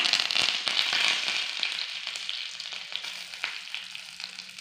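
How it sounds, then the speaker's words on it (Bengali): Curry leaves dropped into hot oil for sambar sizzle and crackle loudly at first, then settle into a steadier, slightly quieter frying hiss with scattered pops. "এবার এই যে ক্যারি পাতা দিয়ে দিচ্ছি"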